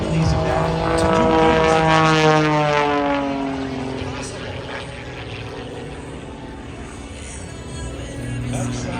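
An Edge 540 aerobatic plane with a 400-horsepower engine flying at an air show at MCAS Miramar, its propeller drone sweeping in pitch as it passes, loud at first then fading, with a voice talking over it.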